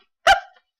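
A single sharp dog bark from outside, loud and brief with a short fading tail, then silence.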